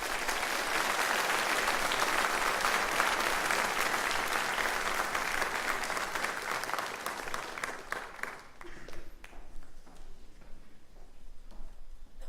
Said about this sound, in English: Would you please join me in another round of applause?